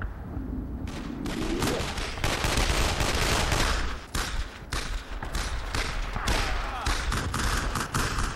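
Machine-gun fire, including an MG-42, in the WWII shooter Brothers in Arms: dense, loud bursts of rapid shots and thuds run nearly unbroken for about eight seconds, with voices talking over the battle.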